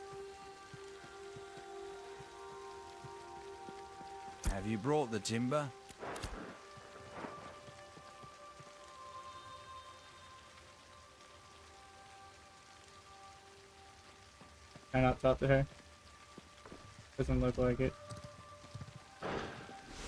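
Steady rain pours in a video game, a soft continuous patter that runs underneath several short bursts of people talking.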